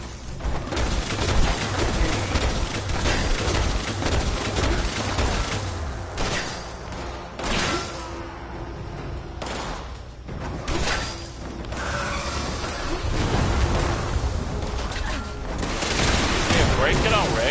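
Sustained gunfire and booming blasts in Fallout 76 on PlayStation 4 as a repaired turret shoots at a scorched enemy, loud and dense with rapid bursts and mechanical whooshes throughout.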